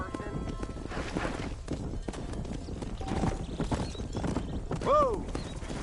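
Horse hooves clip-clopping under a rider in the Red Dead Redemption video game, a steady patter beneath ambient noise, with a short whinny-like call near the end.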